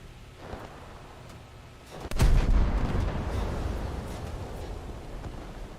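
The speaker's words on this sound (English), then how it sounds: "I'm hearing machine guns ping off me" Machine gun fire strikes a Japanese coastal ship in a naval video game. One sharp impact cracks out, then a dense, rumbling barrage of rounds keeps pinging and roaring steadily to the end.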